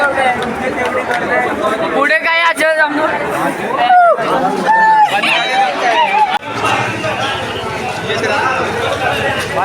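Dense crowd chatter fills a packed railway station at Lower Parel, Mumbai, a steady babble of many voices near and far with a few clearer voices rising briefly above the din.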